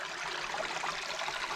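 A small waterfall trickles and splashes steadily over rocks in a clean woodland stream, a continuous soft rushing with no voices.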